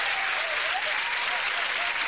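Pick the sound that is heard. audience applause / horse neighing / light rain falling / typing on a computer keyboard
audience applause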